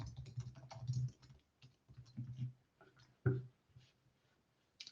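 Quiet, close typing on a computer keyboard while writing content in Google Docs, irregular bursts of clicking keystrokes with short pauses between them.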